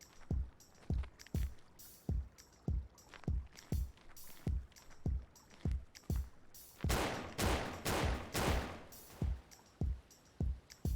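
Pistol shots in the horror game Paratopic, a rapid string of sharp, loud cracks fired in quick succession with short gaps, some louder bursts clustered near the middle.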